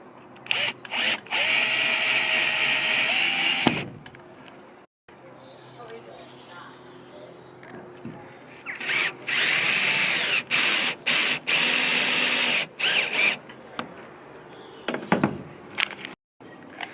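Stainless steel screws are driven by a power drill while a MaxxFan Dome roof vent is fitted to a VW Crafter van, with several loud, close whirring bursts of varying length separated by pauses and a person talking between them.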